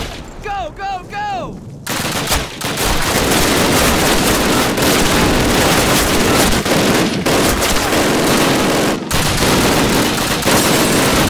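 Sustained World War II weapon fire in the original Call of Duty on PC, a dense loud barrage of rifle and machine-gun shots with brief gaps, following a short shouted voice at the start.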